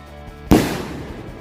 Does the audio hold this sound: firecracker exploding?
yes